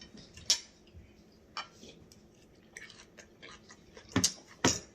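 Someone eats a crunchy lamb chop, making sparse, close crunching bites with a few sharp loud cracks near the start and end and soft chewing between.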